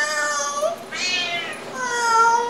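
A pet parrot imitates a cat, producing a few drawn-out, cat-like meows with rising and falling tones, close and clear with short gaps between calls.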